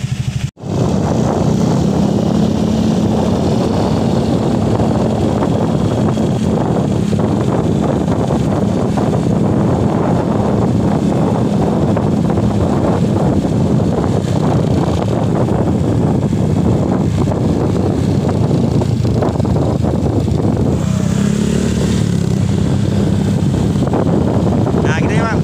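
A Honda Vario 150 scooter fitted with a racing pulley rides along steadily, its engine drone continuous and loud under heavy wind buffeting on the microphone, with a brief dip and rise in pitch near the end.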